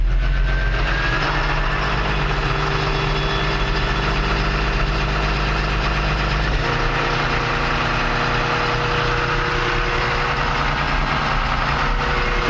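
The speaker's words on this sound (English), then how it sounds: "Man, that thing idles pretty high." Komatsu 61PX dozer engine idling at a high speed, a steady loud diesel drone running continuously with a constant low rumble and no talk.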